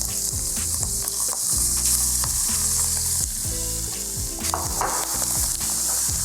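Shrimp frying in an oiled pan give a loud, steady sizzle that crackles without letup, with a few light clinks of the pan running through it and no voices.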